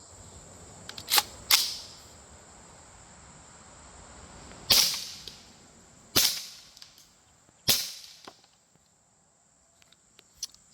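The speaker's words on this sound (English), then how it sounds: "these are the last 3 rounds. So this is the last shooting of the test." An ATI Alpha Maxx AR rifle in .300 Blackout fires several sharp shots outdoors at irregular intervals, each a loud crack followed by a quick decay, with no talking between them.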